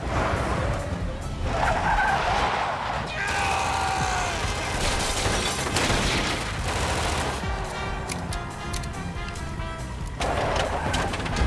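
A cartoon car brakes hard and skids, with loud tire screeches and rattling, clattering bursts in an animated scene, and brief voices mixed in.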